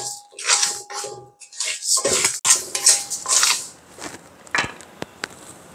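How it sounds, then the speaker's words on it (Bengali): Rice being stirred and dry-roasted in a pan, with loud scraping and rattling strokes of a utensil against the metal in uneven bursts, then a few sharp knocks near the end. "ভাতের চালটা আমি নেড়ে চেড়ে ভাজবো।"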